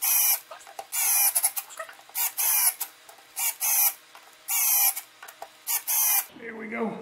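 A power driver sinks deck screws into a wooden mortar and pestle, giving loud, close whirring bursts in an uneven stop-start rhythm, about ten in a row, ending with a softer scraping handling noise.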